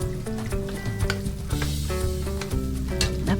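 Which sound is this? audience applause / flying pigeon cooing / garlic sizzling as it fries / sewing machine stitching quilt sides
garlic sizzling as it fries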